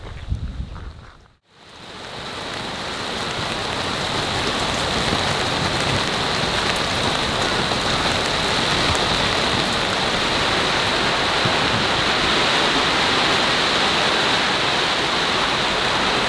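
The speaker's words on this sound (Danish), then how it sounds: "Så begyndte det at regne. Som i nærmest skybrudsagtige tilstande." Heavy cloudburst rain pours down in Svaneke, a dense, steady roar of downpour that starts after a brief gap and holds loud and unbroken throughout.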